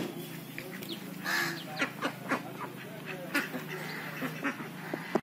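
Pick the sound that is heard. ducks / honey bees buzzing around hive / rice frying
ducks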